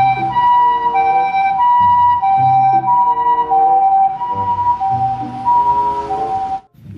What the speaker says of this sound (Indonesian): Mobil ambulan, teman-teman.